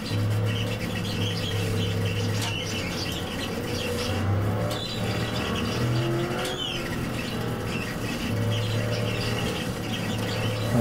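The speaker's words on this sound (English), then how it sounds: "And a huge pack of Ford GTs now making around the first bend and into the 2-3 complex." A big pack of Ford GT race cars roars through the first bend at Sebring in the iRacing sim, a steady loud engine drone with shifting pitches and no talking.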